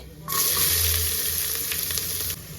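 Dried red chilies and chopped onion drop into hot tempering oil with cumin, bursting into a loud, sudden sizzle that holds steady for about two seconds before easing off.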